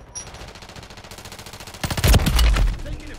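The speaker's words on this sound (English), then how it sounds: "Taking effective fire." Automatic gunfire in the Call of Duty video game: a low background of game noise, then a loud burst of rapid shots around the middle that keeps rattling to the end.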